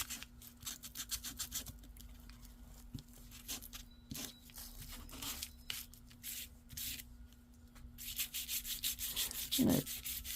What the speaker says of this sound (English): When you come along and sand it after you put the sticker on and give your sticker a little grunginess